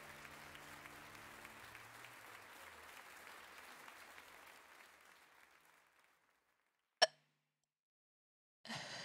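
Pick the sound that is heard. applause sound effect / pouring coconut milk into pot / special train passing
applause sound effect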